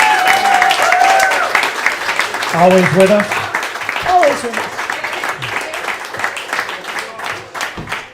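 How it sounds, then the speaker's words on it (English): Applause from a crowd at a Baldwinsville girls basketball gathering, broad clapping running steadily throughout while voices speak over it. "Can we give a round of applause for Dad?"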